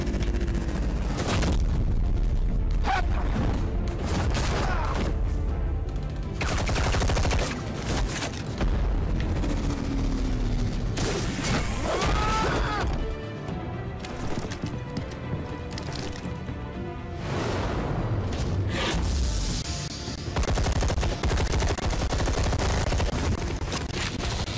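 Gunshots in the video game Batman: The Telltale Series, loud booming shots and bursts scattered over a long stretch amid splashing and dripping game effects, with short quieter gaps between volleys.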